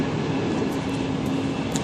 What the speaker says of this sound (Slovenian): ovaj vlak piči 250 na uro